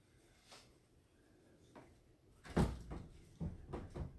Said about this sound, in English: He went right into that door